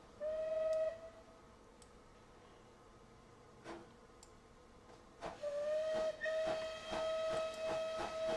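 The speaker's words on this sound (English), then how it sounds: "see one more whistle from Clan" The steam whistle of the Merchant Navy class locomotive Clan Line in Train Simulator 2020 sounds a short steady tone, then after hissing steam and a few puffs gives a longer sustained blast over rhythmic exhaust beats.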